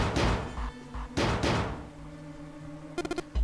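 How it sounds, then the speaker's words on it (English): Heavy pounding on a frozen door in the 999: Nine Hours Nine Persons Nine Doors game, two loud thudding bursts followed by a quick rattling series of knocks. "Santa shoved Junpei aside and pounded against the door"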